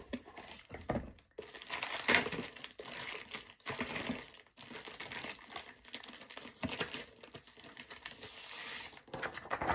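Sheets of paper for making mugs are handled and crumpled up close, giving irregular crinkling and rustling bursts with brief pauses, fairly quiet and with no speech.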